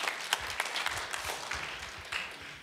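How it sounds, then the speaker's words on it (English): Audience clapping at a Lenten church lecture, a short run of moderate indoor applause with distinct individual claps that fades slightly toward the end. "Yes, you may clap."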